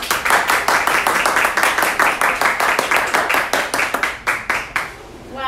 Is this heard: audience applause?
yes